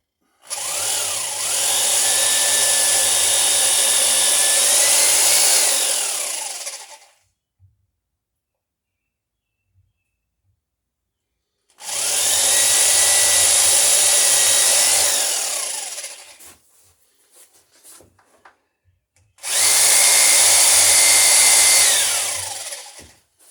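A power drill bores into wood right beside a clamp while a stem and stern of a dory are being framed, in three loud sustained bursts with pitch sweeps as the motor loads and frees, separated by quiet pauses.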